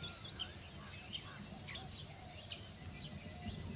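Insects chirp on the jungle forest floor, a steady high-pitched trill with faint scattered bird calls over a quiet hum.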